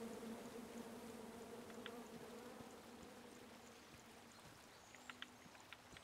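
Angry bees buzzing around a beehive in King's Quest, a faint, continuous insect drone held low in the background with a few small clicks near the end.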